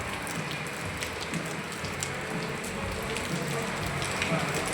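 Steady rain falls on an unfinished house that has no roof yet, a dense continuous patter with scattered drips, heard from indoors and fairly loud throughout.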